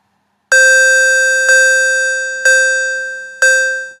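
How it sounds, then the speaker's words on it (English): A synthesized square wave tone with a shortened decay rings out four times at roughly one-second intervals, each strike bright and bell-like with a sharp attack and a slowly fading sustain, loud and alone in silence. "Already sounding a lot more like a bell sound."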